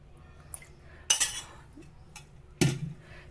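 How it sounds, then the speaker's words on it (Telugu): Metal spoon clinking against a pot as curd is added to Hyderabadi dum biryani and mixed, two distinct clattering knocks about a second and a half apart, close by and otherwise quiet. "ఇప్పుడు నేను కర్డ్ వేస్తున్నాను ఇందులో"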